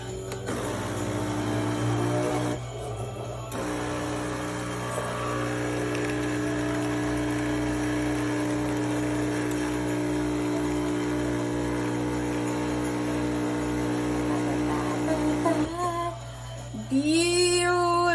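An espresso machine brews a shot for an iced macchiato with a steady mechanical pump hum and drone lasting most of the stretch. The tone shifts and some sharper, hissing sounds appear near the end.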